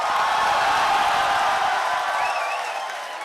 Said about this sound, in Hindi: आप सबकी भरपूर तालियों में और तालियों में ही तशरीफ लाते हैं जनाब तहजीब हाफिज।